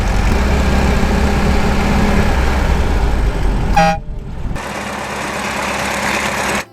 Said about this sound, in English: I'm sure the valves are a little bit out of adjustment. I can hear them rattle a little bit